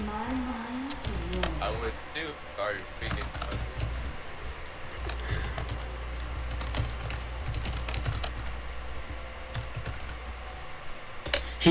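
Angry, rapid typing on a computer keyboard during a League of Legends match, a steady run of close clicky keystrokes beneath ongoing talk and game sounds.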